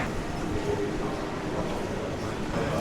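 Steady rumbling noise inside a German train, a continuous broadband roar with faint rhythmic rattling throughout.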